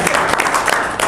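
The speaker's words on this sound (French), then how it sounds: "Applaudissez pour lui." Audience applause at a Simbcoin World Tour gathering in Burkina Faso, a dense, steady patter of many hands clapping close by for about a second, with voices mixed in.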